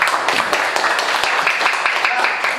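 A classroom of children claps after a class presentation in Indonesia, loud close hand claps in a brisk uneven patter, with voices mixed in among the clapping.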